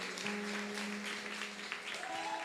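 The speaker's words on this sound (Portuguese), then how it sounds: "uma salva de palmas para eles aí, gente" A church congregation at an evening worship service gives a round of applause for a couple called up front, a faint, distant patter of clapping with some sustained tones and murmuring underneath.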